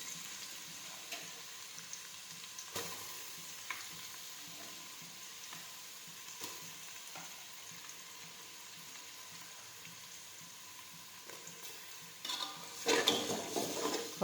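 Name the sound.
onions sautéing in a pan for pav bhaji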